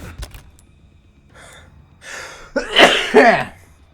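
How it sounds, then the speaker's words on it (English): A single sneeze lands near the end, sharp and close after a few quiet breaths and small noises. "I'm gonna sneeze."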